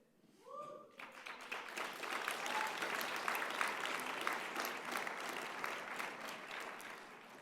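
An audience at a graduation ceremony at the University of Lausanne breaks into sustained applause, dense and steady after a brief voice at the start.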